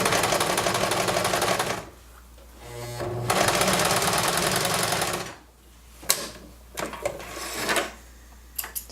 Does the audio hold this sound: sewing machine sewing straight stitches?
yes